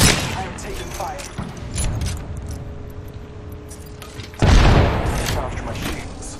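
Gunfire in the shooter game Apex Legends, dense bursts under in-game voice lines, ending in a loud close blast near the end.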